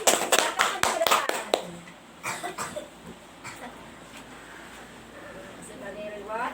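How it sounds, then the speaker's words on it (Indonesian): Classroom clapping for a winning student group, a quick run of close hand claps that fades into scattered claps and coughs, with a teacher's voice talking afterward. "Tepuk tangan buat kelompok 2."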